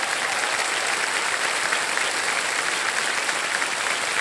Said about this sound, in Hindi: अच्छा, ताली बजा दीजिए, क्या जाएगा।